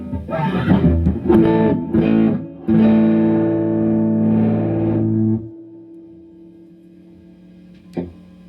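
An electric guitar, a 2017 Les Paul fitted with V3 Phat Cats pickups and played on the neck pickup, sounds a few distorted, reverb-laden chord hits and then a long sustained chord. It fades to near silence before one last faint pluck.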